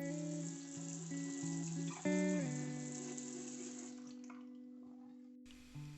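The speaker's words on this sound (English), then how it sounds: "This is my sink. I just let it run until the air is purged from the line." Hot water flowing from a bathroom sink tap while air is purged from the line after cleaning a Rheem tankless water heater filter: a steady hiss with sputtering shifts in tone, then cut off near the end, with no talk.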